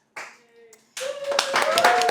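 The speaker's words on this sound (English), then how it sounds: "Yes, clap it up" An audience clapping for a guest arriving on a talk show, a burst of applause that swells and continues steadily, with a brief sound before it.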